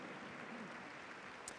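A show jumping crowd at the Saut Hermès CSI5* claps steadily in a dense, even wash of applause that holds at the same level throughout. One brief louder accent comes near the end.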